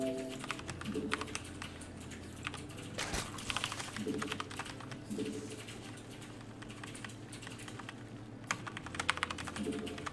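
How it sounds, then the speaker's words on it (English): Rapid clicking keystrokes on a computer keyboard, near and fairly quiet, come in irregular bursts with brief pauses over a soft steady background hum; nobody speaks. "I do enjoy typing random things into your Twitch chat"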